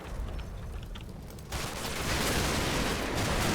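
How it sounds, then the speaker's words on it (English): A hand grenade bursts in the Combat Mission wartime game, a sudden loud blast at mid-clip that leaves a dense crackling roar of gunfire and debris continuing to the end. "Yeah, that was a hand grenade."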